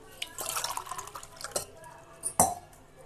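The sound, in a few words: water being poured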